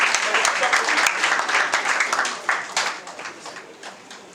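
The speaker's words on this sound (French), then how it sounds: "nous allons applaudir pour eux." Wedding guests at a civil marriage ceremony in Pointe-Noire applaud the newlyweds, a dense, steady wash of many hands clapping together, loud and close, with faint voices mixed in and the applause thinning slightly toward the end.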